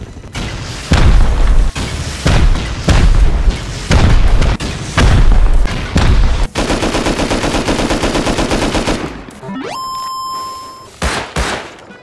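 Incendiary rounds fired in the Rust video game during a raid: a rapid series of loud gunshot bursts with booming impacts, then sustained crackling fire, ending in a steady electronic tone.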